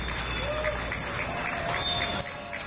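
Applause from apartment balconies across a city street, a steady wash of distant clapping with birds chirping and cooing over it.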